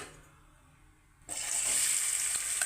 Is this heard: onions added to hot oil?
yes